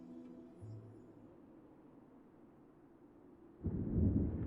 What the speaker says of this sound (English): I hear thunder. Rain is soon to follow.